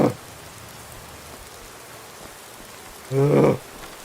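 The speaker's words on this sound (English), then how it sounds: "I'm afraid you might have to put with a little bit of rain, folks." Steady rain hisses throughout in the Skyrim video game, with a short voiced burst near the start and another near the end.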